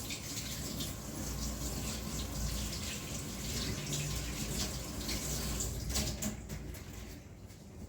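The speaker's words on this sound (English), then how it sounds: "I'll just wash my hand, rinse it off" Tap water runs steadily into a sink as hands are rinsed beneath it, a loud continuous splashing rush that thins out near the end, with no voices.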